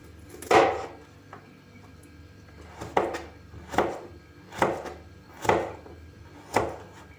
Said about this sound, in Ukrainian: Двісті грам редиски нарізаємо грубою соломкою.